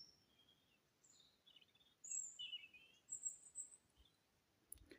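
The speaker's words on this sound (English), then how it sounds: "Most of that bird noise that you hear, not all of it, but most of it, robins." Several robins sing in a quiet outdoor setting on a Scottish island, their high, clear phrases coming in separate bursts at moderate distance over a faint background hiss, with a soft low thump near the end.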